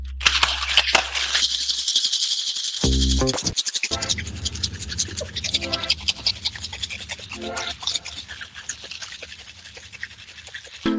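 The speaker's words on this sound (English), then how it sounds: "So you need to go a bit intense with shaking because this is what makes the difference" A cocktail shaker is worked hard for the second shake of a fruit-purée mocktail, making a long run of fast, loud rattling and scraping. It starts with a brief low thump and a few knocks, and runs without speech.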